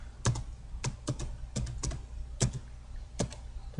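A computer keyboard is used to type a username and password for Foscam MJPEG camera user settings: a steady series of crisp, close keystrokes, about a dozen taps in uneven rhythm over a constant low background hum.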